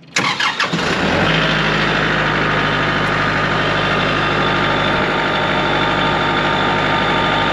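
A Kubota tractor engine cranks and catches with a short burst of starter noise, then settles into a steady, loud diesel idle with a constant drone close by.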